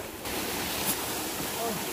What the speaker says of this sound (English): It turned out to be a waterfall to a creek.